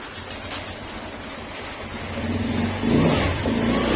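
A scooter-type motorcycle that stalled after riding through floodwater idles after its radiator coolant and spark plug are replaced, a steady close engine hum that rises slightly toward the end.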